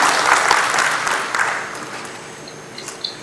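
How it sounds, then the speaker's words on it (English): Audience applause at a university conference on the National Education Policy 2020 at the University of Jammu, starting fairly loud and fading away over a few seconds. "So a very big round of applause for Honorable Shri Manoj Sinha Ji."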